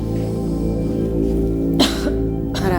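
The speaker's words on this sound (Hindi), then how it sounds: "मामूली खांसी है" Two short, mild coughs during a doctor's examination, close by, the second trailing off as the clip ends, over a steady low background hum.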